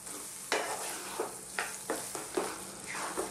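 Chickpea spinach curry simmers in a pot and is stirred with a spoon. Soft bubbling runs underneath several distinct scraping strokes spaced about half a second apart. The sound is close and fairly quiet, with no voices.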